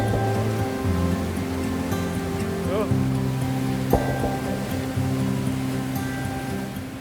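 Turbulent river water pours over a small waterfall near a campsite, a steady rushing wash close by, overlaid with a persistent tonal hum and a few faint brief chirps.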